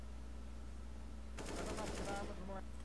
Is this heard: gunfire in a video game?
yes